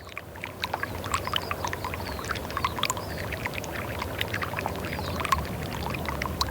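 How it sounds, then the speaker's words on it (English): Soft, steady trickling water with scattered tiny cracks, ticks and pops of ice thawing beneath melting snow, faint and close, continuing throughout. "we noticed the sound of the water increasing and the ice beginning to thaw"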